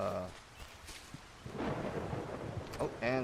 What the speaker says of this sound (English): and thunder.